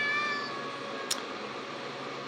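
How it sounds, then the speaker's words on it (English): A pet cat gives a single short, clear meow about midway, close by, against a quiet room background with no one talking. "That's my cat."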